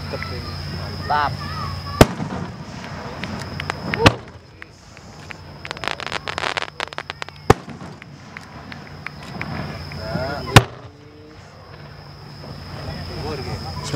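Occasional loud firework bangs punctuate a noisy outdoor Japanese festival scene with crackling bursts, rumbling background and a steady high whine.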